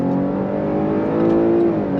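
A 2024 Chevrolet Blazer Redline V6 pulls hard under throttle, its engine note a steady, loud drone that climbs slightly as it accelerates and stays unbroken for the whole stretch, with no voices over it.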